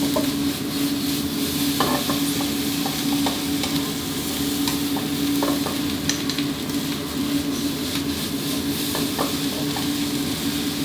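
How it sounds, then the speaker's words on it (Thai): Rice sizzles and crackles as it stir-fries with sauce in a hot oiled wok while a utensil scrapes and stirs in irregular strokes, a steady frying hiss underneath throughout. "พอซอสโดนกับกระทะน้ำมันร้อนๆแล้วครับ"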